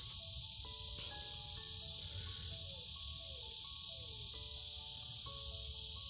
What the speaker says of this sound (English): The cicadas are going crazy.